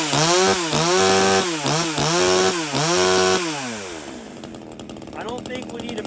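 A budget chainsaw bought on Amazon, newly started, revs loudly up and down in repeated rising and falling whines, then settles into a lower buzzing idle as the revs drop.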